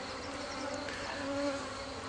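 Honey bees, including a dark Carniolan queen in her cage, hum in a steady close buzz, with a few bees droning louder as they pass near, and no voices.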